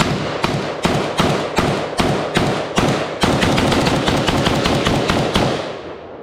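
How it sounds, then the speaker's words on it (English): Zastava M90 rifle shots: about eight evenly spaced loud cracks, then a fast rapid string of shots, sharp and close, echoing outdoors at a damp range. "very first shots out of the M90"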